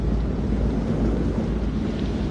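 Stormy weather in the video game Man of Medan, a steady roar of wind and rumbling low thunder with a constant dense noisy wash throughout, no distinct claps standing out.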